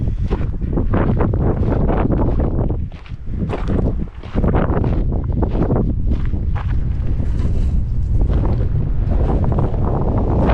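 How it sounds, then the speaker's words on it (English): Strong gusts batter an outdoor microphone in a windy goldfields area near Murchison, a loud continuous rumbling buffet that briefly eases twice, with no voices. "Windy today."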